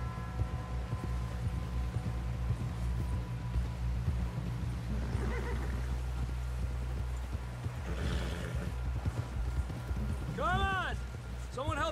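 Horse hooves clip-clop steadily in a Red Dead Redemption 2 game scene, a close, continuous rhythmic trotting under low rumbling ambience, with people talking over it and a short whinny near the end.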